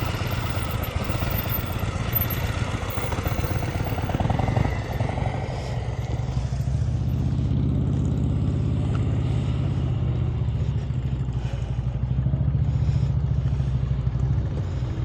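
A motorcycle engine hums steadily during slow-speed riding practice around cones, a close, continuous low rumble with the throttle held, swelling slightly midway and staying loud throughout.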